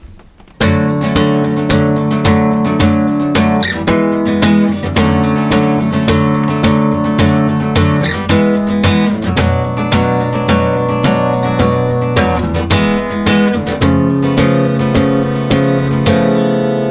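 Loud, bright acoustic guitar strumming full chords of the bridge of a song in a steady rhythm, played close and alone, with rapid repeated strokes throughout.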